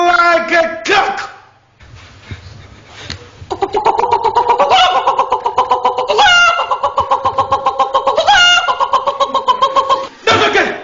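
A person imitates a rooster crowing, with several strained, rising vocal crows in a steady rhythmic series, loud and close, after a brief burst of other voice sounds.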